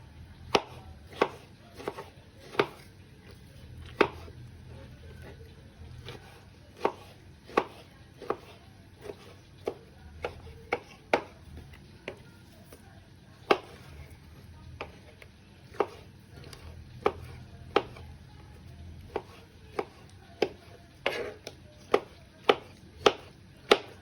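A knife chops vegetables steadily on a cutting board for menemen, sharp close knocks in irregular bursts with brief pauses, no voices.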